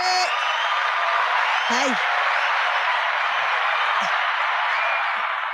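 Dense, steady applause from a large crowd fills the whole stretch at close range, with a few short voices calling out over the clapping.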